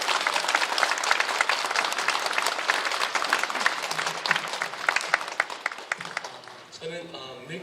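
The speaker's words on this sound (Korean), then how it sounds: "우리 다 같이 박수로 우리 선교사님 환영하도록 하겠습니다" A church congregation at a Korean prayer meeting applauds to welcome a visiting missionary, with dense, steady clapping that fills the hall for several seconds before thinning as a voice begins speaking near the end.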